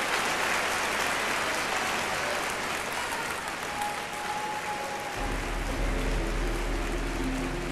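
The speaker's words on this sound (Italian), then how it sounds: "prenditi l'applauso, te lo meriti tutto" Sustained applause from a large audience at a Miss Italia beauty pageant, a thick continuous roar of clapping that holds steady throughout, with music entering underneath partway through.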